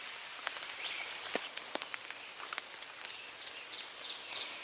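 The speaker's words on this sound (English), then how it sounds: "It's not a heavy downpour. It's more like a real steady drizzle," Steady light drizzle patters on surfaces outdoors during a spring turkey hunt, scattered drops tapping at close range over a soft continuous hiss, with faint birdsong in the background.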